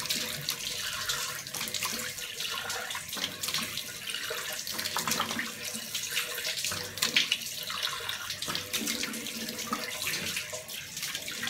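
Steady tap water runs into a sink as someone rinses their face after a gold facial scrub, a continuous close splashing and trickling that shifts with hand movements throughout, with no voices.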